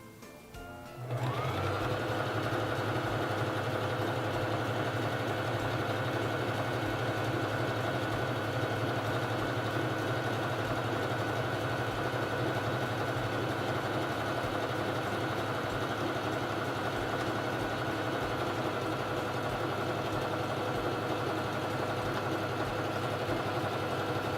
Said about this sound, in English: it's time to sew the feather stitch